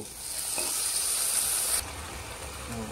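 Chal kumra leaf paturi fries in a pan with a loud, close sizzling hiss that cuts off abruptly partway through, leaving a quieter simmer.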